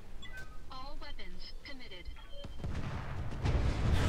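Long-range missile barrage fired from a mech in the Roguetech video game, a rapid rising swell of rumbling launches and blasts building to a loud roar after a burst of synthetic beeping tones.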